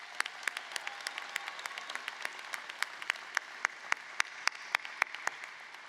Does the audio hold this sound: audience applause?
yes